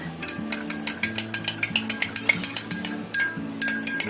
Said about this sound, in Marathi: स्टीअर कर जरा.